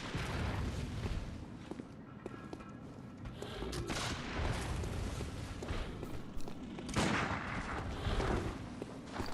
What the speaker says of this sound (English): And you stop fucking shooting at me?